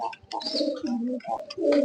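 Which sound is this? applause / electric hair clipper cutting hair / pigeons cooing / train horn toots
pigeons cooing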